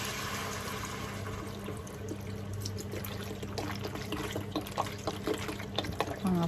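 Water pours into a pot of pork curry in a steady, close, moderately quiet stream, with trickling and splashing that grow more lively toward the end.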